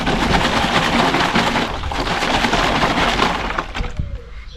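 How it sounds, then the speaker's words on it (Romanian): A closed bottle of fertilizer solution shaken hard: dense, loud rattling and sloshing that continues for several seconds before stopping with a few final knocks, no talking. "Am închis bine sticla, acum agităm."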